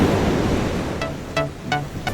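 Sea waves washing against a passenger boat out on clear water: a continuous broad rush of surf and wind with no voices, and a few short tonal chirps near the end.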